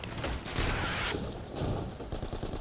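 Gunfire in the video game BlackFire: dense, loud bursts of rapid shots in two main volleys, with mechanical clatter between them and no talking.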